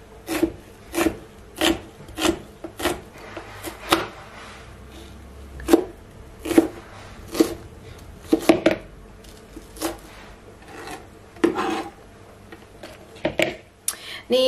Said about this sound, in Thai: หอมแดงก็หั่นเหมือนกันค่ะ